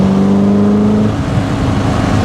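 A modified TVR Griffith 500 engine revs hard and close, a loud throaty roar with a steady pitch that shifts into rough accelerating growl partway through.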